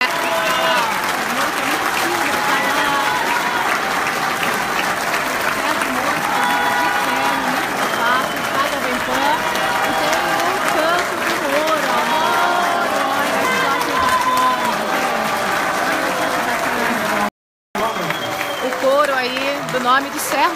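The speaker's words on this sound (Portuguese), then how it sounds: "Sérgio Moro, aplaudido de pé, aqui no Mitos e Fatos" Standing ovation for Sérgio Moro at a Brazilian event, long sustained loud applause and cheering from a large crowd, with voices and chatter mixed in and a brief dropout near the end.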